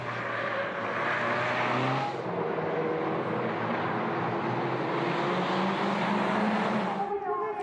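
Peugeot 207 race cars lapping the Spa-Francorchamps circuit during a sprint race, their engines roaring in a loud, unbroken drone with shifting pitch for the whole stretch.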